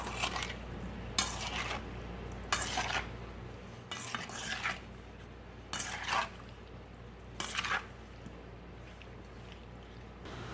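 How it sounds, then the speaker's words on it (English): A spoon scrapes and clinks through blackberries coated in a sugar mixture in a bowl, sounding in about six separate, evenly spaced strokes close up over a quiet background. "using a spoon, I'm going to stir these berries up in the sugar mixture and try to get all the berries well coated"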